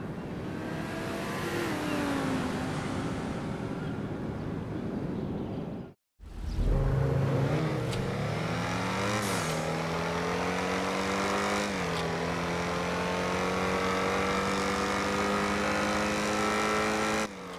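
A sports car engine in GTA Online, the Tempesta, revs loudly and continuously, pitch climbing and shifting through gears, with a brief cut to silence partway before the roar resumes.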